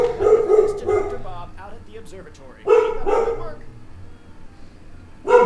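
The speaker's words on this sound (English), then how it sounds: "the barking dog" A dog in the Nancy Drew game Secret of the Old Clock barks in sharp bursts, a cluster early, more after a pause, and one at the end, with a person talking between.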